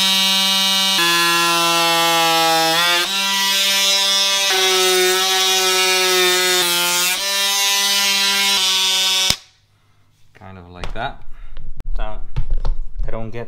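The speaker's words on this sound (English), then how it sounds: "I'm just going to use the multi-tool to cut here prior." An oscillating multi-tool cuts vinyl plank flooring with a loud, steady high-pitched buzz that wavers slightly in pitch for several seconds, then stops abruptly before a person talks.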